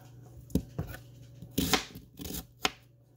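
Onions are chopped on a board for a stir fry, giving a few sharp, close knife taps in an irregular rhythm over a quiet background.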